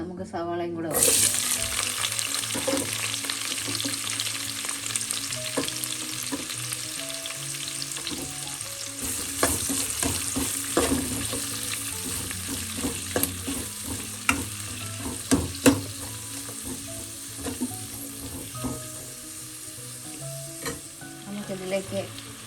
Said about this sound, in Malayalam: അതേ ഓയിൽ നമുക്ക് സവാളയും കൂടെ വറുക്കാം.